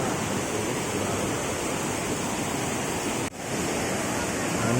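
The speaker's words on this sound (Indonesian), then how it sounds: "ini curugnya ya, ini aliran sungai, lalu dia ada curug di bawah" Waterfall and river stream at Curug Goong in Pandeglang, a steady broadband roar of rushing water that holds constant and near, with a brief dip partway through before the torrent resumes.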